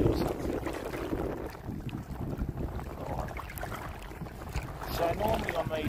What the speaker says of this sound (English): there's too much wind